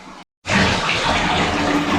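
Water gushes steadily from a household basin tap after a brief dropout, a loud, close, continuous rush of stronger flow with no voices.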